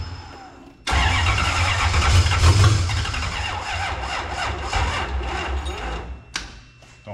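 A Toyota 1UZ V8 swapped into a Nissan S13 240SX cranks on its starter, kicking in abruptly and grinding on loudly and close with an uneven, churning rumble for several seconds before dropping away.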